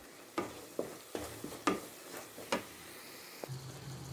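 Spices are stirred into vegetables frying in a pan, giving a handful of sharp spoon scrapes and clinks over a faint, low sizzle, ending in a short steady hiss.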